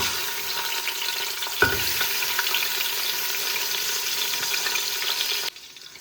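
Chicken sizzles and fries steadily in ghee in a kitchen pan for dal, with a brief clatter as pieces go in, then a continuous close crackle until it cuts off near the end.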